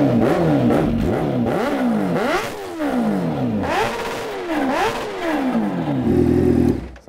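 A supercharged Kawasaki H2R motorcycle engine revs hard in repeated rising and falling sweeps, loud and close, then settles into a steadier high drone near the end.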